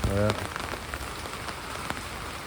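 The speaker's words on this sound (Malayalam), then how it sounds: "മഴ ഇങ്ങനെ പെയ്തുകൊണ്ടിരിക്കുകയാണ്" Rain falls steadily with a constant hiss and scattered drips, after a short voice at the very start.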